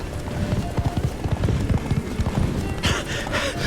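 Geralt's horse Roach galloping in The Witcher 3, hooves pounding in a fast, steady rhythm at close range, followed near the end by a burst of wind-like rushing noise.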